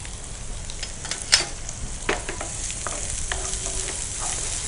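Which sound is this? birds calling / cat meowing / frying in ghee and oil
frying in ghee and oil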